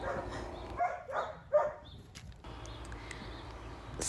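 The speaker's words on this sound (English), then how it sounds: "do those dogs always bark like that?" Dogs bark in a few sharp, separate yaps at a moderate distance outdoors, followed by quieter background noise.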